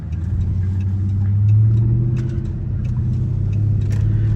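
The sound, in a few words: Dodge SRT8 Charger driving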